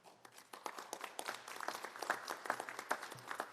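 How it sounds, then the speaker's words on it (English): Scattered clapping from an audience at a Louisiana bar swearing-in ceremony for law graduates, a quiet room with a few hands clapping, moderately close and fairly soft, with no one talking over it. "And you all are free to clap in between when somebody stands up."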